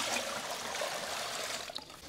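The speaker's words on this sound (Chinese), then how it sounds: "猪排先洗一下。" Running water from a tap splashes and trickles steadily over raw pork ribs being rinsed in a kitchen. The flow is continuous and close, with no voices.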